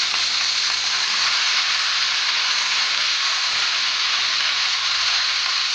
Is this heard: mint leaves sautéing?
yes